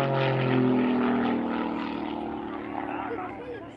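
A Zivko Edge 540 aerobatic aircraft performs overhead with a droning propeller engine that is loud at first and then gradually fades, while a voice talks over it.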